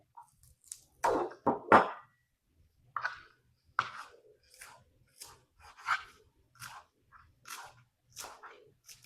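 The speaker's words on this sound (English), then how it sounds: "So here's our parsley. I am going to cut just a little bit." Fresh parsley being cut in a series of crisp, irregular snips and crunches, close and clear, separated by short silent gaps.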